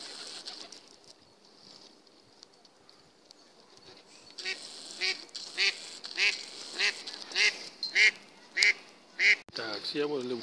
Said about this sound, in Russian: Уточки, чаечки какие-то.